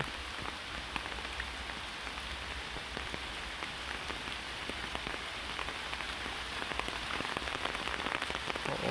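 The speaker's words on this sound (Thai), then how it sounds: "ตอนนี้ฝนก็ยังตกอยู่นะครับ ทุกคน" Heavy rain pours steadily during a storm, a dense even hiss of drops pattering on surfaces, constant and moderately faint throughout with no voices.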